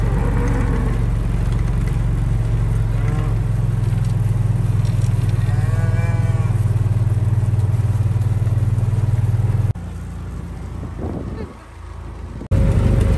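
Cattle from a herd of about 200 head moo, a drawn-out bellowing call rising above a loud steady engine drone, followed by a short quieter stretch with another faint moo before the engine noise returns.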